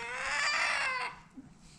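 A chicken squawks loudly and harshly in one long, strained cry close by, then trails off into quiet farmyard ambience.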